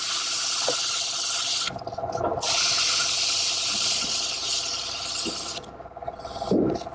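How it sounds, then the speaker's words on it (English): Hand sanding a hollow-turned wooden vessel with 180-grit abrasive makes a steady, loud, close rasping hiss that runs almost the whole time, breaking off briefly twice. "I'm just going to touch that up with some 180 so I don't have to hand sand it later on"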